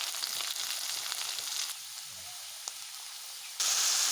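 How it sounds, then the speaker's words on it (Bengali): Potatoes frying in hot oil, with a steady crackling sizzle that drops to a softer hiss partway through and then surges loud again near the end, heard close with no speech. "সেই তেলে আলুগুলো দিয়ে দিয়েছি আলুগুলো একটু ভাজা হোক"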